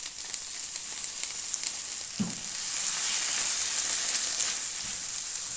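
A fried onion base sizzles in a pan with ketchup and sour cream just added, a steady close hiss with a soft stirring knock midway, growing slightly louder and fuller, no voices.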